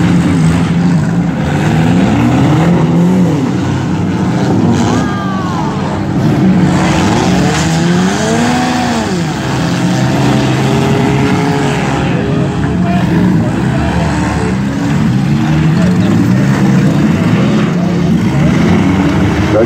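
Front-wheel-drive demolition derby cars rev and grind around a dirt pit at a track event, engines droning loudly with scattered thuds of contact as an announcer's amplified voice calls the action over the top.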